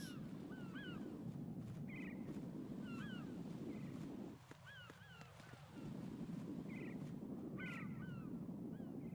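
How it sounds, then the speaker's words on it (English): Seagulls cry repeatedly in the Metal Gear Solid 2 game world, short squawking calls over a constant wash of wind and ocean noise, fairly faint and spread across the scene. "Seagulls."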